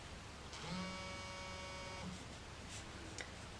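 A mobile phone buzzes briefly on a table during a watercolour painting session, a short faint electronic vibration tone lasting about a second and a half, followed by quiet room noise and a small knock.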